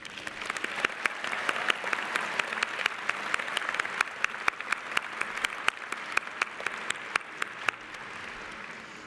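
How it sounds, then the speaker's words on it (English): Graduation audience gives a sustained round of applause, a dense, even wash of many clapping hands with sharp individual claps standing out, continuing steadily throughout. "let's give them a round of applause"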